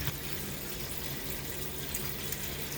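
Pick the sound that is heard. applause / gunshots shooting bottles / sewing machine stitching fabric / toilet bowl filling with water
toilet bowl filling with water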